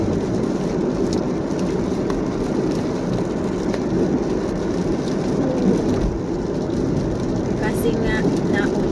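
Steady rain falls during travel in Japan, a dense continuous hiss that stays loud from start to finish, with no talking.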